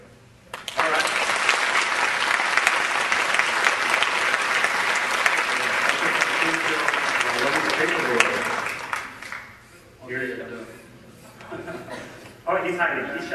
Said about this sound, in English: it'll need all of the applause to get this rolling.